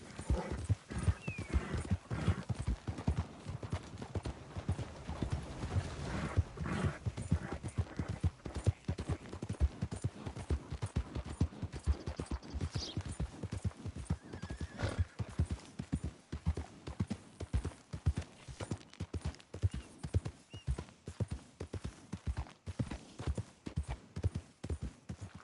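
Hooves of a galloping horse in the video game Red Dead Redemption 2, a fast, steady clip-clop that continues throughout, with a brief whinny and a few faint rider sounds behind it.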